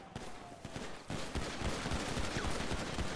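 Rapid bursts of gunfire crackle through a GTA roleplay shootout, loud dense volleys and single shots overlapping without pause, with no talking.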